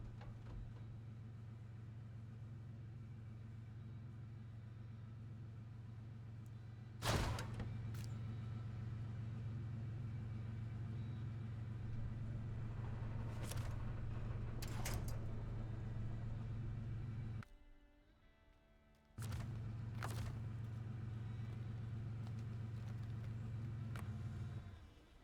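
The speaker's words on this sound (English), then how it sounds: "we'll stop the engine here and we'll just switch to our other truck" A truck engine in the Snowrunner video game hums at a steady low idle, with a brief thump and a short dropout near the end before the drone resumes.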